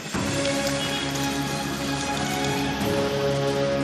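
Steady, dense rain pours down continuously, a constant wash of patter with no voices, holding at an even level throughout.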